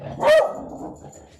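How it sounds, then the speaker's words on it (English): A dog gives one sharp, fairly close bark, then a brief low trailing sound, against a quiet room background. "one of my dogs"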